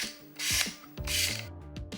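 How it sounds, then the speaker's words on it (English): An autofocus motor in a vintage Canon EF 35-135mm f/3.5-4.5 AFD zoom lens whirs and buzzes in several short mechanical bursts, close and fairly loud, with ratchety clicks between the runs and no talk. "The AFD motor in this lens is definitely audible when it's working"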